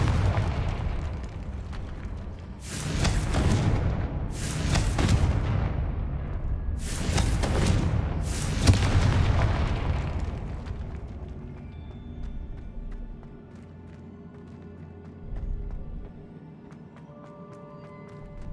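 Repeated Confringo fire-spell explosions in the Hogwarts Legacy video game, four loud booming bursts in quick succession over the first ten seconds, followed by quieter rumbling game ambience.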